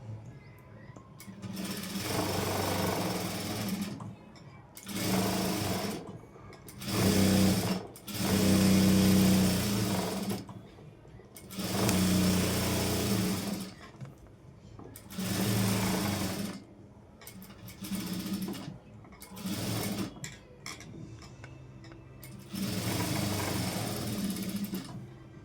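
A sewing machine stitches the lining of a cross-cut blouse in repeated bursts of a few seconds each, separated by short pauses, close and steady throughout.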